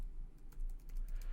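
A computer keyboard is typed on while a file name is entered, giving a few light, close keystrokes over a faint low hum.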